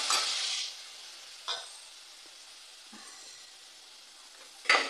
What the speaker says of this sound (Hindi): ये सारी चीज़ अच्छे से भून लेते हैं।